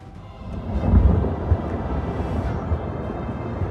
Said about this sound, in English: The noise sounded like thunder, like a blow to the ground